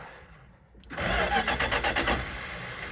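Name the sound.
1967 Dodge Polara engine cranking but not starting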